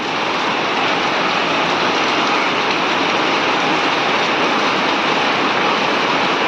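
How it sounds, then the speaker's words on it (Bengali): Heavy rain pours down steadily on a waterlogged street outside a home, a loud, dense, unbroken hiss of water with no voices. "বৃষ্টিটা মনে ভালোই হবে"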